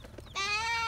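A young goat kid lets out a single loud, close, wavering bleating cry that lasts most of the second, following a moment of quiet background.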